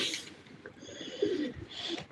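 A pigeon coos softly and close by in a few low, rolling notes, with a faint higher chirp and light background noise.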